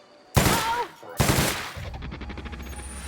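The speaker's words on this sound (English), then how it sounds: "I'm gonna shoot that thing right there." Two loud gunshot bursts from The Outer Worlds video game, each a sharp crack with a brief ringing tail, followed by a rapid rattle of lighter automatic fire that fades toward the end.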